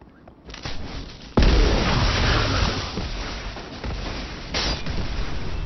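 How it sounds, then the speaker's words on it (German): A Destiny 2 explosion bursts suddenly and loudly, followed by a long rumbling roar that fades and swells, with a second smaller blast near the end. "Ah, ich wünschte, ich könnte bei der Explosion dabei sein."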